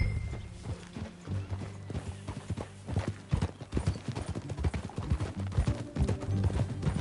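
A horse's hooves clip-clop in a steady walking rhythm in Red Dead Redemption 2, close and clear over a low ambient hum, with the beat quickening slightly toward the end.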